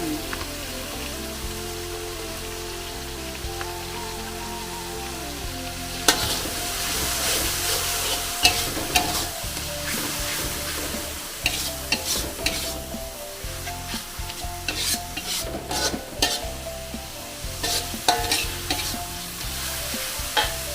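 Coarse ground chili sizzling in hot oil in a pan while being stirred, a steady close fry with repeated sharp scraping and clinking strokes of the utensil, no speech.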